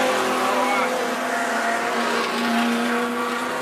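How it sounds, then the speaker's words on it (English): Outlaw sedan race cars race at a night speedway after a restart, engines droning steadily and loudly throughout with a continuous roar, under an announcer's commentary. "So we're set for a restart now. Mick Allen and Nathan McDonald. We are racing."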